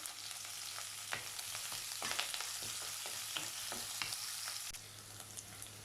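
Chopped onions, green chillies and curry leaves sautéing in a pan after mustard seeds have popped, a soft continuous sizzle with scattered crackles and occasional stirring scrapes, close but fairly quiet.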